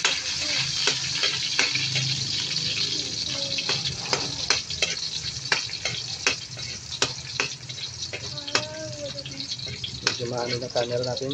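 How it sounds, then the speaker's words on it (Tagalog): Garlic and onion frying in a pan for homemade igado, a crackling sizzle with repeated clicks and scrapes of stirring, while a person talks over it at times. "lagyan natin ng bawang,"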